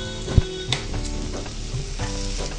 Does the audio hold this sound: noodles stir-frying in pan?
yes